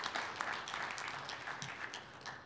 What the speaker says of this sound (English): Let's give a round of applause to Rod Eckenhoff for a great talk.